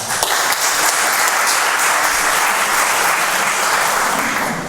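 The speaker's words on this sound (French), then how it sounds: "C'est un spécialiste des robots, que vous pouvez applaudir très fort" A hall audience at a talk on smart objects and robotics claps loudly and continuously, a thick sustained burst of applause that stays level before tapering at the close.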